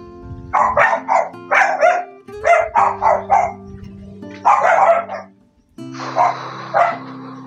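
Several dogs bark indoors in a house, loud and close, in repeated bursts of sharp barks and yips with brief pauses, sometimes overlapping.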